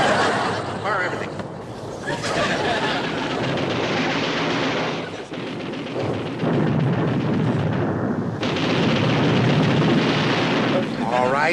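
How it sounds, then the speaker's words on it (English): Naval guns, torpedoes and depth charges fire and explode in a long, loud, dense barrage of blasts and rumbling that barely lets up, with voices mixed into the din. "Fire torpedoes 1 and 2! Fire forward guns! Fire depth charges 3 and 4!"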